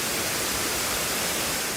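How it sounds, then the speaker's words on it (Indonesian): Benang Kelambu waterfall in Lombok, water pouring through rock crevices down four tiers about 40 metres high, gives a steady, dense broadband rush with no pauses. "Air terjun ini keluar dari celah-celah batu yang ngebentuk 4 tingkatan setinggi kurang lebih 40 meter"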